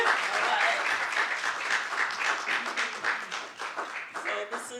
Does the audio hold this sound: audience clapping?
yes